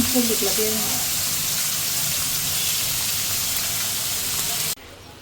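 Vegetables frying in mustard oil with cumin in a home kitchen, giving a steady loud sizzle that runs nearly five seconds before cutting off abruptly, with a little faint activity at the start.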